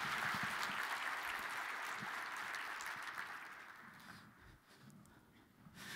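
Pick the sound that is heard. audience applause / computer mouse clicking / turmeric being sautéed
audience applause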